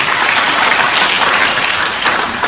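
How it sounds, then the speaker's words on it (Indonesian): A church congregation applauds, a loud, dense and steady wash of clapping from many hands that fills the room without a break. "Tepuk tangan dong buat Tuhan."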